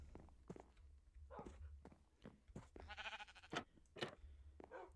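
A Minecraft sheep bleats in several short, wavering calls amid soft blocky footstep thuds, fairly faint and close, with a longer quavering bleat in the middle.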